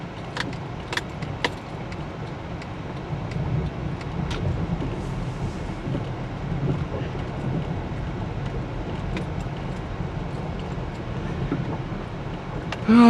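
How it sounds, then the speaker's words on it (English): A car rolls along a potholed road, with a low steady road rumble broken by sharp rattling clunks and jolts in the first few seconds, then a quieter drone. "this car is not gonna like these potholes here."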